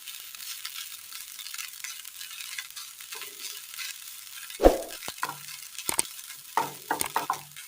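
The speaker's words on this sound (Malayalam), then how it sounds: "തേങ്ങ നന്നായി ഒന്ന് വറുത്തെടുക്കാം" Grated coconut roasting in a pan for a pumpkin curry, with soft continuous sizzling and a few sharper scraping stirs of the spoon toward the end, no talking.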